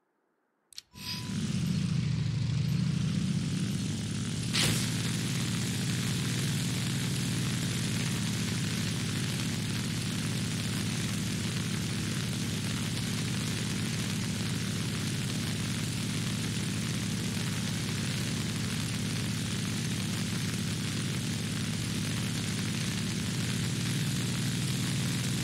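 Il-2 ground-attack aircraft in War Thunder, its engine and propeller droning steadily and loudly the whole way through after a sharp start, a constant low roar with no talk over it.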